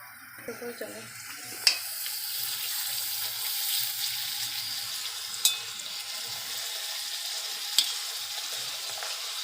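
Fuchka puris frying in hot oil over medium heat, a steady close sizzle with a few sharp clinks from a utensil, and faint voices heard briefly at the start.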